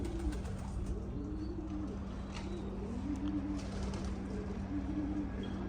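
Pigeons coo in repeated low, rolling phrases at moderate distance over a steady background hum and faint outdoor noise.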